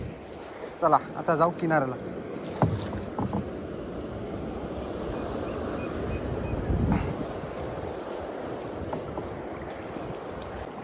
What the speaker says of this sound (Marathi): हे बघा लाटा कसल्या आल्यात.